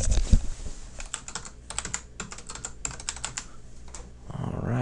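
Fingers type a username and password on a computer keyboard, producing rapid, close clusters of crisp key clicks with short pauses between bursts, followed by a faint thump at the end.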